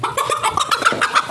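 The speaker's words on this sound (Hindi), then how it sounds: "ये मुर्गे बड़ा शोर शुरू कर देते हैं।" Several chickens cluck close by in quick, choppy bursts, a busy overlapping run of short calls with no talking.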